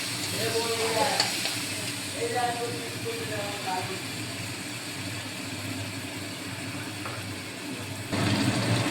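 Spices with salt and a little sugar fry in oil for Bengali ghugni, a continuous sizzle under a calm voice talking, with a louder burst of frying noise near the end.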